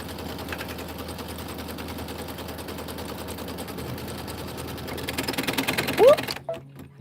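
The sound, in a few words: sewing machine stitching felt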